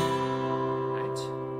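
A guitar chord rings on while a strummer plays an up, down, up pattern with an empty swing, the light strokes brushing the strings briefly over the sustained notes, close and without talk.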